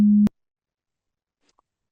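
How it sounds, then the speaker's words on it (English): A data sonification renders an audio cue as a single short, steady low electronic tone. It cuts off abruptly and is followed by near silence. "And then this audio cue is rendered as sonification sound like this."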